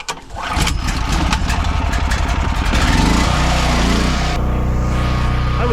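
Engine on a reinforced Barbie scooter built for 85 mph cranks and catches, then runs at a loud, steady, close buzz with a rapid firing rhythm that rises slightly before settling.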